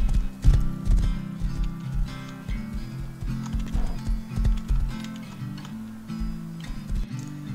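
Horse hooves clip-clop in the video game Rust: a loud, steady run of rapid hoofbeats, close and continuous, with no one talking over them.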